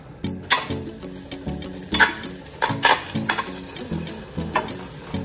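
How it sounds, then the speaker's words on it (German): Tomato paste roasting in a pot for an ox or pork cheek sauce, stirred with a utensil: repeated scraping and clinking strokes against the pot over a steady sizzle, close and fairly loud with no talking. "Ihr nehmt jetzt euer Tomatenmark her, röstet es schön in der Pfanne an"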